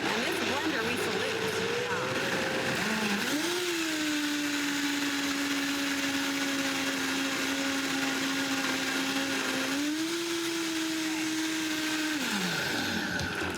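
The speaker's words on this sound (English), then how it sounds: "we're just gonna blend that really quick" A kitchen blender whirs continuously while pureeing vegetables and garlic for a one-pot pasta marinara, a loud steady motor drone that shifts pitch twice as the load changes, running for the whole stretch.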